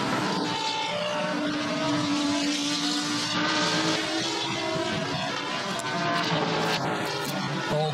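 GT race cars, including a Nissan, McLaren, Bentley and Mercedes-Benz, race at the 2016 Bathurst 12 Hour, with loud, continuous engine roar and rising and falling revs as they pass nearby.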